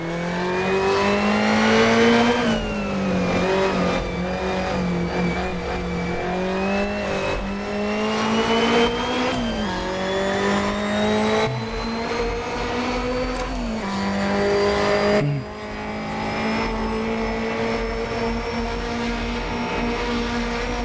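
Alfa Romeo Giulia TZ2 race car engine on the historic Nordschleife in a racing game, a loud steady drone rising and falling through gear changes and revs, close and continuous with no talking.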